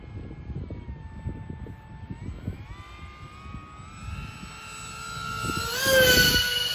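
A modded FT Spear RC airplane flies overhead with a steady whining electric motor drone that rises in pitch and grows louder as it passes close, over wind rumble.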